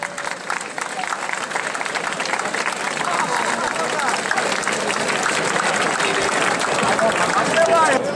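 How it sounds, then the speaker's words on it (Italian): A crowd applauds at an Alpini regimental gathering in Ivrea, the clapping dense and steady for the whole stretch with a murmur of voices mixed in. "salutiamoli con un applauso"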